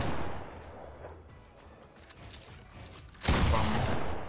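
A single loud, sharp shotgun blast in Fortnite goes off near the end, after a few seconds of quieter game ambience, with a broad booming tail.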